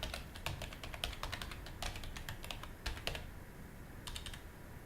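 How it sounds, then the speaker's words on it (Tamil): A computer keyboard clicks as a website address is typed while creating a company in Tally ERP 9. The keystrokes are quiet and quick, coming in short bursts with brief pauses between them. "வெப்சைட் அட்ரஸ் டைப் பண்ணுறேன்."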